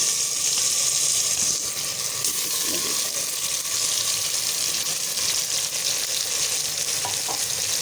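Half a kilo of chicken fries in a pot for Old Delhi style achari chicken biryani, a loud continuous close sizzle with occasional stirring sounds.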